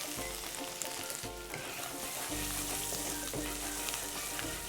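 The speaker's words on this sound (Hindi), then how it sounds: "अदरक को हल्का सा ही पकाना है, ज्यादा नहीं।" Chopped ginger frying in hot oil gives a steady, close sizzle with light crackles throughout, cooked alone without voices.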